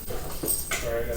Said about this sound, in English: I got a couple dogs playing in another room here.